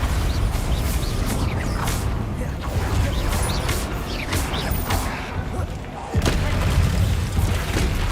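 Explosive Confringo and Bombarda spells cast in Hogwarts Legacy, heard as a dense run of booming, crackling blasts with mechanical rattle, loud and continuous, with a sharp burst near the end.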